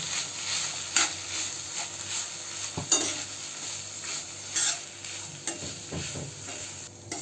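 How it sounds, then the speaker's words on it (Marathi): Thecha being sautéed in a little oil with salt and crushed peanuts, a soft steady sizzle with a few spoon scrapes and stirring clatters close by, no talk. "त्यामध्ये चवीनुसार मीठ आणि शेंगदाण्याचा कूट आणि परतून घेऊ आपण"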